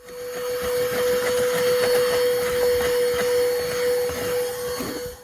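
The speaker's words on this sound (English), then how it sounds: "Let's see how well it vacuums." A corded Drecell car vacuum cleaner runs steadily at close range with a constant whining hum, with faint rattling as debris is sucked up.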